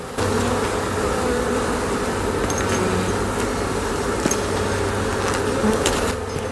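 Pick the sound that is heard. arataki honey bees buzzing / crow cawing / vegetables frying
arataki honey bees buzzing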